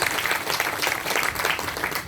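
An audience at a business plan presentation applauds, with dense clapping that stays steady and lively throughout and no speaking over it.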